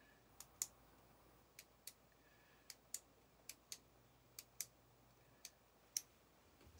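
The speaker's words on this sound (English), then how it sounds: "Sorry, I'm clicking the pen." A pen is clicked repeatedly, giving a dozen or so sharp, faint clicks at irregular intervals in a quiet room.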